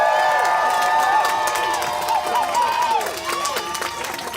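A rally crowd for higher education claps and cheers outdoors, with whoops and raised voices rising over steady applause that fades slightly toward the end.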